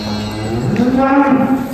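A suckler calf or cow on a cattle farm gives one loud, close moo that rises and is drawn out over farmyard background noise.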